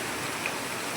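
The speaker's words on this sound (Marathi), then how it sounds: "अवकाळी पाऊस जबरदस्त" Heavy unseasonal rain on farmland during a windy storm, a dense, even wash of rain noise heard alone at moderate level.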